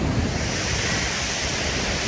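Steady, loud surf from ocean waves on a beach on a fine day, a continuous broadband roar mixed with wind buffeting the microphone, with no voices.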